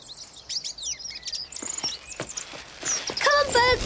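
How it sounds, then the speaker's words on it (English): Small birds chirp and tweet while being fed bread, rapid high calls at first, then scattered taps and rustles before a burst of close, busy chirping. "Come on, birds, lovely bread, come to Fern."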